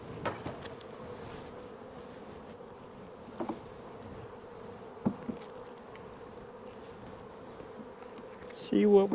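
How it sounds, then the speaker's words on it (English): Steady low buzzing of many bees close by, with a few brief knocks and rustles; a louder burst near the end. "bees are doing such a good job."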